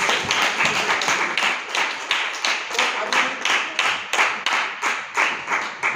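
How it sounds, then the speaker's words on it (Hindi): A farmers' meeting crowd in India claps loudly together, with fast uneven rhythmic hand claps going on steadily and close by, and no one talking. "सबके लिए भाई जोरदार ताली बजाइए"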